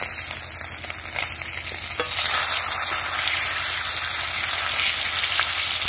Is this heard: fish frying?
yes